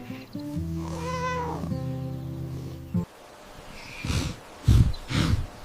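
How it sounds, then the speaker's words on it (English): A farm cat meows in a short series of close calls, a longer tonal cry followed by a few brief, louder mews after a pause. "This is a farm cat."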